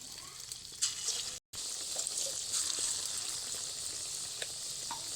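Small dollops of batter fritters deep-frying in plenty of hot oil, a steady bright sizzle with crackling pops that runs throughout, broken by one very brief silent gap.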